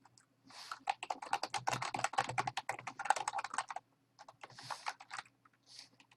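Fingers tap out bursts of keystrokes on a computer keyboard, rapid clicking runs broken by short pauses, close and clear with no talking.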